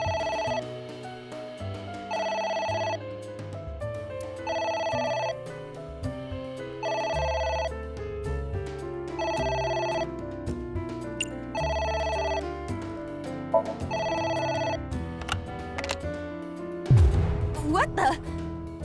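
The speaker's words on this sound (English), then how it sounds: "A phone. Should I pick it up?" A phone rings repeatedly in the game AI: The Somnium Files, a steady electronic ringtone pulsing in regular bursts over background music, ending with a sudden louder hit.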